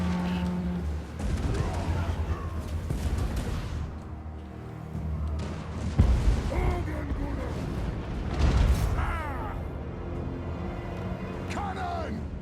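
Cannon artillery fire in the Total War strategy game, playing Karak Kadrin, with several loud booms spread across a dense, chaotic battle din while someone talks excitedly over it.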